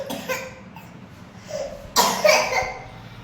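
A sick young child gives several short, wet coughs close up, a couple early on and a harder burst toward the end. Quiet room noise fills the gaps between them.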